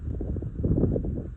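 Wind gusts across a misty, cool mountain summit on the Appalachian Trail in Virginia, making a steady, loud low rumble of wind buffeting the microphone, with no talk.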